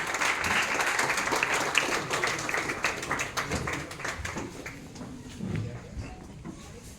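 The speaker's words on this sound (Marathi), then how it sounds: "जोरदार टाळ्या या दत्ता मेघे कॉलेज ऑफ इंजिनिअरिंगच्या विद्यार्थ्यांसाठी." Loud crowd applause for Datta Meghe College of Engineering students at an annual day celebration, a thick burst of many hands clapping that gradually thins and softens over about seven seconds.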